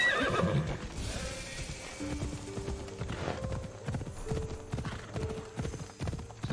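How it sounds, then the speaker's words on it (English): Horse from Assassin's Creed Odyssey neighs loudly near the start, then clip-clop hoofbeats gallop in a steady rhythm under game music, with a few soft voice sounds. "I can call my horse."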